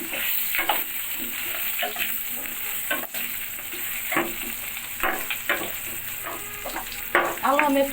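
Potato and cauliflower pieces frying in hot oil for a fish curry, a steady close sizzle with bursts of stirring and spatula scrapes throughout, no voices.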